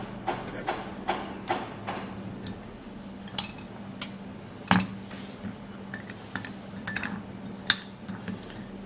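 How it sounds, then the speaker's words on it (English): A metal tablespoon scoops turmeric powder, giving scattered light clinks and taps close by, about a dozen small knocks spread unevenly with a soft rustle between them and no voices. "I'm going to be taking half tablespoon of this turmeric powder"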